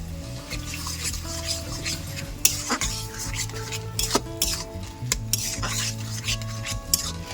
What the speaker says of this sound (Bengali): এটা কিছুক্ষণ নাড়াচাড়া করে রান্না করে নিলাম